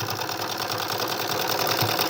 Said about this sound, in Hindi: तो देखिए बिल्कुल सिलाई के ऊपर सिलाई लगानी है।